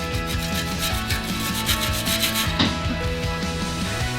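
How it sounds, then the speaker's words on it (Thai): Steady scrubbing on a rusty bicycle part during a tire change, a continuous close abrasive rubbing with a rapid back-and-forth rhythm throughout, no voices. "ตรงนี้นี่มันจะมีสนิมอยู่นะผมจะขัดนะ"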